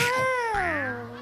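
A human voice imitates a cat meowing on a roof, giving a single drawn-out, close meow that slides downward and then trails off into a low held tone.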